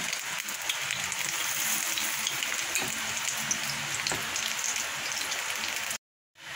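Besan fritters mixed with hinche leaves drop into hot oil in a kadai and fry with a steady, dense crackling sizzle throughout, cutting off abruptly near the end.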